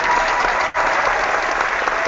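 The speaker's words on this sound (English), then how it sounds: "Can we get a round of applause for our first unboxing on?" An audience claps for a board game unboxing, a dense, even burst of applause with a brief dip partway through, loud and close.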